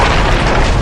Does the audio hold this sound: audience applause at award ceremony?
no